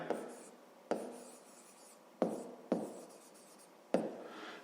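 Pen strokes scratch across paper while a math exercise is worked out, five separate bursts each opening with a sharp tap of the tip and trailing into a soft scrawl, close and quiet, no talk.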